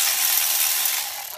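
A ratchet clicking steadily for a brief burst while bolts on a Ford 6.0 Powerstroke EGR cooler are snugged down, close and fairly loud with no talking.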